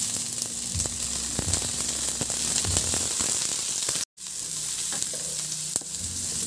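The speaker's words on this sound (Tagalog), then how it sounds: "Magpainit ako ng mantika at igisa ko na yung bawang." Garlic and onion sauté in hot oil with a steady, close sizzle and occasional stirring scrapes, cutting out briefly to silence midway before the frying resumes.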